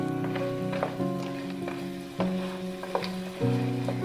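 Crab roast frying and being stirred in a pan, a steady close sizzle broken by several sharp scrapes and clanks of the spoon against the pan, with no one speaking.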